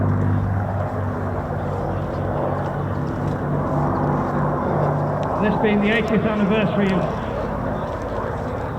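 A P-47 Thunderbolt painted as Jersey Jerk flies at the Old Buckenham airshow, its steady engine drone holding throughout while a commentator talks over the sound.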